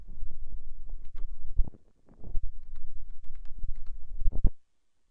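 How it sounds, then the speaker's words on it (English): Slow one-handed typing on a computer keyboard produces irregular clusters of close, crisp key clicks with a brief pause midway and a final louder tap before silence. "I'm typing with one hand"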